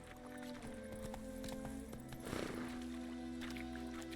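Roach the horse gallops in The Witcher 3: Wild Hunt, hooves clip-clopping in a quick steady rhythm, fairly faint, over a droning tonal background with a brief swell midway.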